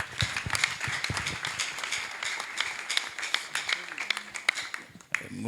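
A church congregation claps together for God after a sermon, a dense run of hand claps filling the room at steady loudness, with scattered voices mixed in.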